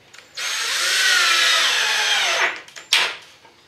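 A power drill drives a screw into a wooden boilie air dry rack for carp fishing baits: one sustained whirring burst of about two seconds, then a short second spin, loud and close.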